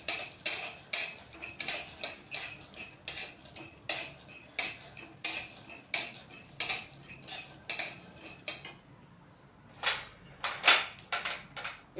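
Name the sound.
nuts and cumin being stirred in a dry pan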